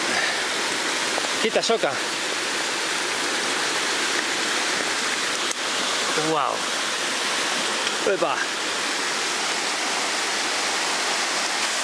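Heavy rain drives a loud, steady torrent of rushing water that fills the whole scene without a break, while a few short spoken exclamations rise over it now and then.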